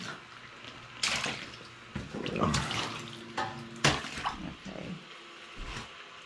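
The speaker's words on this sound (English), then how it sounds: "So it pumps the water out." A small electric water pump pushes spring meltwater out, a wet gushing and splashing that surges in uneven bursts, close and moderately loud.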